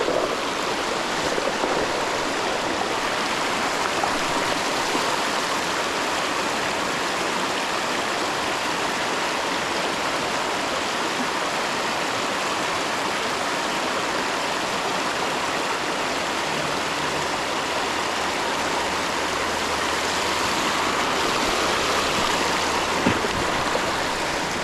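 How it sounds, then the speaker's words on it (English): Fast-moving stream water rushes steadily over rocks and into deep pools at a trout-fishing spot near St Peters Village, a loud, continuous broadband roar that holds for the whole stretch with no voices. "There's really cool, lots of fast moving water, deep pools."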